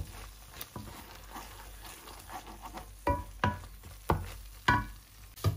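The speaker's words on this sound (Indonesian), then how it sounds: "Aduk sampai rata, dan akan kita masak sampai benar-benar kering airnya." Nastar pineapple filling stirred in a pan while it cooks down until dry, with soft scraping and a low bubbling sizzle broken by several louder spoon knocks and scrapes toward the end.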